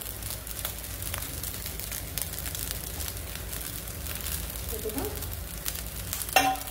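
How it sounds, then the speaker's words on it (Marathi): Oil sizzles steadily in a pan while garlic rice cooks, a continuous close hiss with scattered crackles and a brief stirring scrape near the end, no talking. "आणि आता चांगला आपल्याला तो तळून घ्यायचा त्या तेलामध्ये"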